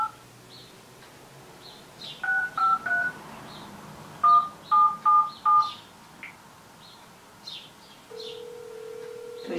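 A telephone keypad beeps out a dialed number in two quick bursts of DTMF tones, each short and evenly spaced, followed by a steady ringback tone, with faint birdsong chirping in the background.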